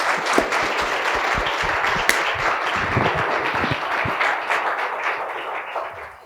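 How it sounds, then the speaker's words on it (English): An audience at an AmeriCorps VISTA Week fireside chat with the mayor breaks into sustained applause, a dense even wash of many hands clapping that holds steady for several seconds before tapering slightly. "You all will join me in giving them a round of applause."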